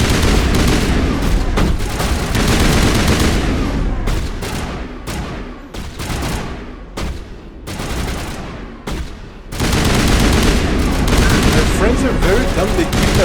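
Mass Effect video game firefight: dense, loud bursts of gunfire fill the clip, broken by brief pauses between volleys, with rapid repeated shots and some distant speech underneath.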